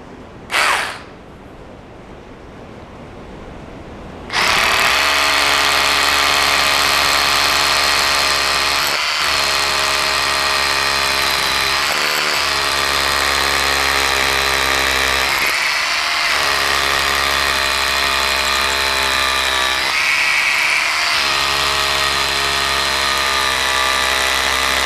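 After a brief click and near silence, an Ingco cordless concrete drill starts up and runs loud and close for about twenty seconds, a steady whining drone broken by a few short dips.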